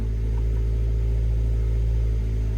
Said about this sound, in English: Much better idle than last time.